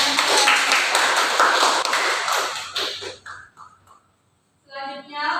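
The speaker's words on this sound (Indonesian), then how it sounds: "beri tepuk tangan dulu" A classroom audience claps for a few seconds, a dense burst of applause that thins out and stops, followed by a short pause and some faint rhythmic tapping.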